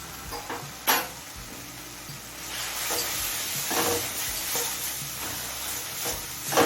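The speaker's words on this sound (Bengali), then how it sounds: "এবার আদা রসুনের কাঁচা গন্ধ চলে যাওয়া পর্যন্ত কষিয়ে নেব" Chicken liver and stomach sauté with ginger garlic paste in a pan, giving a steady close sizzle punctuated by repeated scraping and tapping stirs.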